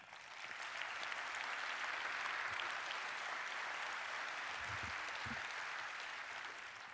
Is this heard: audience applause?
yes